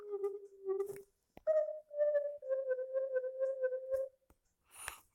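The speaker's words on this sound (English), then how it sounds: "We'll go to oscillator 1. Let's make it a sine wave." A mobile synthesizer app playing a sine-wave oscillator with portamento, a clean tone stepping through several held notes with slides between pitches, faint and alone apart from a few clicks.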